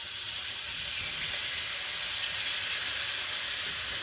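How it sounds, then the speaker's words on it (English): Cubed chicken breast sizzles in hot oil in a wok, a continuous bright, crackling hiss that stays loud and even throughout with no voices. "Anytime you're cooking meat and you drop it into a hot pan, if you don't hear that sizzle"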